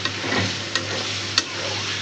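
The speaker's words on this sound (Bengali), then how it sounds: "একদম ভাজা ভাজা করে কষাচ্ছি" Potatoes fry with beef liver in a pan, a soft steady sizzle with a couple of quick scraping stirs, close and fairly quiet.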